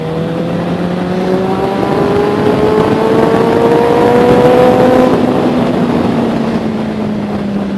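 Benelli 600i inline-four motorcycle revving inside a tunnel, a loud continuous engine note with rising and falling pitch sweeps as gears change, echoing and close throughout.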